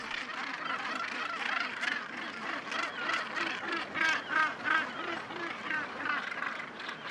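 A dense seabird colony on wild Atlantic islands off Ireland, such as the Skelligs, calls in a continuous rhythmic chorus of loud, overlapping honking cries rising and falling.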